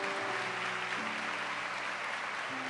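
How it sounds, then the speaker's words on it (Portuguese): A church congregation applauds during a Catholic homily: dense, steady clapping that fills the whole stretch at an even level, with faint sustained tones underneath. "Pode aplaudir, se você entendeu, aplaude."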